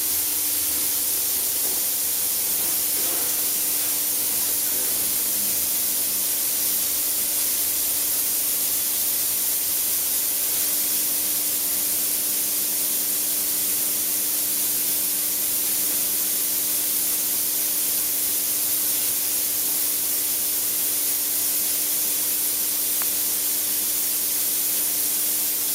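Steam arm on a traditional espresso machine running during a steam test, producing a continuous loud, close hiss with a faint mechanical hum underneath that holds steady for the whole stretch.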